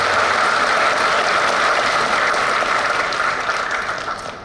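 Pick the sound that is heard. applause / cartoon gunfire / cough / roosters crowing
applause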